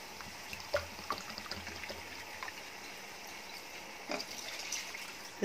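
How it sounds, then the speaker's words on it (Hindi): Water trickles and splashes softly into a pan of egg korma masala, a thin continuous pour with a few louder splashes, fairly quiet and close. "अब इसमें पानी डालेंगे,"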